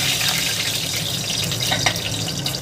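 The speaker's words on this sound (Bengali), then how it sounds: "এখানে সরষের তেল আমি একটা কড়াতে দিয়ে দিয়েছি। এবার একটা তেজপাতা দিয়ে দেবো।" A bay leaf dropped into hot mustard oil in a wok, a dense, bright, steady sizzle and crackle that stays loud and continuous throughout, with no talking.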